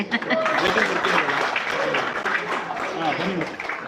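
An audience at a music function claps steadily for about four seconds, a dense, even patter of applause with voices running underneath.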